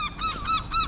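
Seagulls calling overhead, a few short honking, laughing cries in quick succession, fairly near and clear against faint background.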